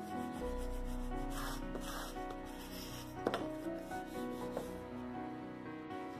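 Paper fold being creased by firm rubbing, a steady close scraping and rubbing sound with a couple of small taps, heard alone over a faint background hum.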